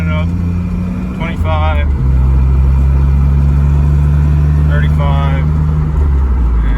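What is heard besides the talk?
car engine accelerating in second gear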